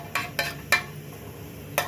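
Whole garam masala spices (cinnamon, cloves and cardamom) fry in a pan for a chicken dish, with four quick metallic clinks of a spoon against the pan over a faint, steady sizzle.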